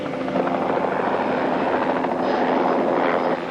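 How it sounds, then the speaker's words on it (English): Helicopter flying overhead, its rotor thrum a steady, moderately loud chop that persists for a few seconds with no voices. "It's a helicopter."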